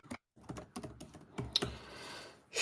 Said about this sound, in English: hear that typing? Click it, clack, clack.